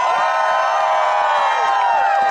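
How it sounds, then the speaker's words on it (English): A big crowd at a political rally in Atlanta cheers and whoops with applause, loud and sustained, with shouting voices layered through the roar. "let's give Evelyn a huge round of applause"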